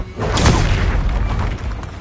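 A Confringo spell blast in a Harry Potter video game produces a single deep, booming explosion with a crackling, rumbling tail that fades over two seconds.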